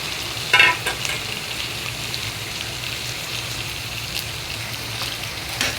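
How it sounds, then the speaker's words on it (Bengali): Marinated beef brain frying in oil with browned onions produces a steady, rain-like sizzle, with a brief louder crackle near the start and a soft, even hiss after it. "যে মশলাগুলো আছে তা দিয়ে আমি প্রথমে তেলের উপরে কিছুটা ভেজে দিচ্ছি।"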